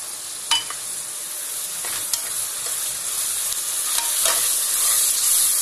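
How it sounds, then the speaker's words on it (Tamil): Masala for mutton dum biryani sizzles and is stirred in a pan, a steady frying hiss broken by several sharp scrapes of the spoon, close and alone without talk. "நல்லா பச்சை வாசனை போற அளவுக்கு நல்லா வதக்கி விடுங்க."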